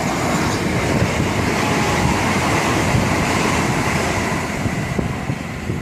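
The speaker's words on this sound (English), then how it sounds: "1524 Southeastern service from Dover Priory to London Victoria" A Southeastern Class 375 electric multiple unit, running from Dover Priory to London Victoria, rushes past Smarts Crossing near Rainham as a loud, steady roar of wheels and wind with faint rhythmic rail clatter.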